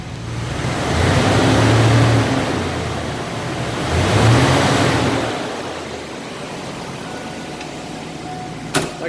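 A 1988 Ford Mustang Convertible engine revving up twice, a loud swelling roar that rises and falls, then settles to a steady idle rumble, ending with a brief click.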